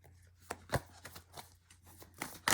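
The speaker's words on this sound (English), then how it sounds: "I'll shuffle 3 more times." Tarot cards shuffled by hand for a pick-a-card reading, a few quiet riffling and tapping bursts spaced irregularly over a steady low hum, no talking.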